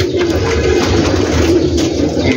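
Pigeons coo in a steady, dense murmur from a large rooftop flock, a constant low burble with faint rustling throughout.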